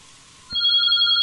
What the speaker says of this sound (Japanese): あー、公衆電話が鳴ってんの？